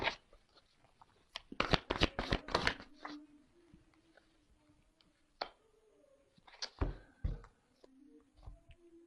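A deck of cards is shuffled in a quick burst of riffling flutters, with more scattered card snaps and taps following in a quiet room.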